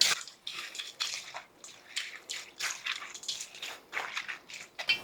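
Fried onions being stirred into a bean mixture in a bowl, with close, wet, squelching scrapes repeating in an uneven rhythm and no talking.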